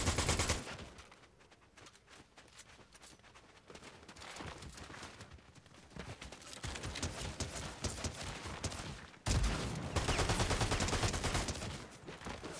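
Rapid gunfire in the battle royale game Fortnite, continuous rattling bursts that swell and fade across the clip, loudest in a sharp volley near the end, close and dense, with no voices.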